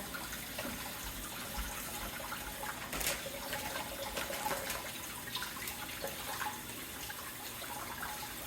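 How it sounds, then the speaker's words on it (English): Green beans are rinsed under running tap water, a steady close hiss of flowing water with light splashing bursts and no talk. "We're gonna rinse the green beans really good."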